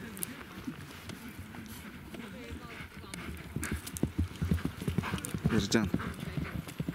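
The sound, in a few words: horses' hooves clip-clopping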